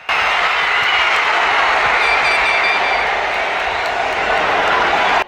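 Large stadium crowd erupting as Switzerland scores against Mexico in a football match, a dense, steady roar of cheering and shouting from thousands of fans that holds loud for several seconds.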